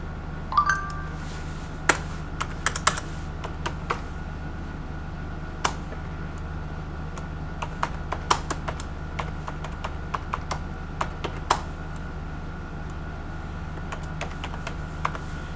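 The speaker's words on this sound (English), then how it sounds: "And I'll type that up here in the window too." Someone types on a computer keyboard in short, irregular bursts of crisp, close keystrokes with gaps between them, over a faint steady background hum.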